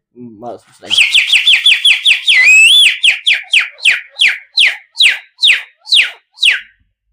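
A man mimics a bird call with his voice, producing a rapid series of sharp chirping whistles that slow into spaced, evenly timed tweets, loud and close with no other sounds.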